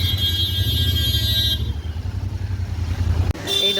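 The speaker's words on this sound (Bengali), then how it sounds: "বাইকটা ঘোরাচ্ছে।" A motorbike turning around outside a mutton shop, its engine a steady low rumble close by that cuts off abruptly near the end before street noise resumes.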